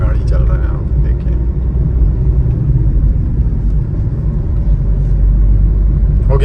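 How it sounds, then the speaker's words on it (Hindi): Large vehicles pass along a rough highway road, a loud continuous low rumble heard from inside a moving car, with someone talking over it. "कितना गाड़ी चल रहा है यार, बहुत बड़ा बड़ा गाड़ी चल रहा है यहाँ पे।"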